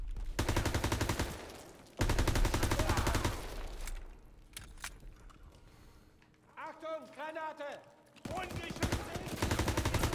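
Rapid automatic gunfire from the Call of Duty WWII campaign, loud and sustained in long bursts, broken by a quieter stretch where someone talks before the shooting resumes.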